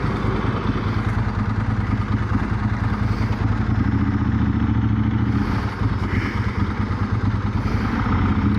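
A Ducati 916 motorcycle engine runs steadily with a loud, close, throbbing rumble and mechanical clatter, holding an even note throughout with no voices.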